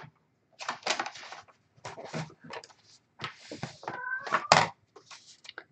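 A pet cat meows several times indoors at close range amid a craft workspace, its calls spread in short bursts with pauses between, one drawn-out tonal cry near the end.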